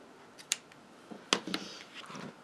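A few quick, light snips of scissors trimming the loose ends of a tied ribbon bow on a Stampin' Up! punch card, two sharp close cuts followed by softer rustling.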